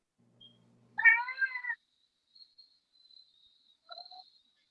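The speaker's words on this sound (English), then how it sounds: "Was that a cat? That was." A cat gives one clear, close meow, followed by a few softer faint chirps and a shorter second call, with quiet gaps between.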